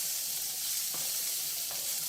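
Cumin and urad dal frying in oil for a ridge gourd peel and coconut chutney, a soft steady sizzle close by with a couple of faint stirring taps.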